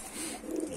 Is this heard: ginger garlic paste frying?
no